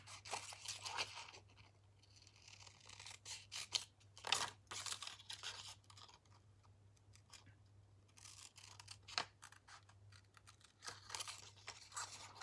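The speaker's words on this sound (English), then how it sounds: "So cutting it on the stamped line and being really careful to cut it exactly where that stamped line is." Scissors snipping through card along a stamped line for a watercolour pencil flower-basket craft: a close, quiet series of irregular crisp cuts and papery rustles with short pauses, no talking.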